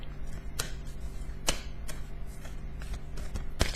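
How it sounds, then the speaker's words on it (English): A few tarot cards are shuffled by hand, giving quiet, sparse crisp clicks and light snaps at irregular intervals over a low, steady room hum. "it's a bleeding nightmare to shuffle tiny numbers of cards."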